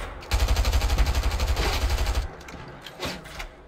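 A fast burst of automatic gunfire in the video game Fortnite, loud and close, with rapid even shots for about two seconds, then a few scattered thuds as it dies away.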